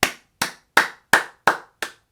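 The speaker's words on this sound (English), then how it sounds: "We get a round of applause" Six loud, evenly spaced hand claps, sharp and close, with brief silences between them.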